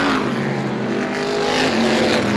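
Vintage outlaw modified race cars racing at Star Speedway, a loud, continuous engine roar with rising revs as cars run close together.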